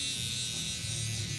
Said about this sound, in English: I like to turn the clipper around, the trimmer around, and go bald